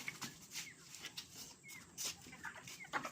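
Pet hens kept on a rooftop cluck softly and intermittently in short, faint bursts, heard from a modest distance against a quiet outdoor background.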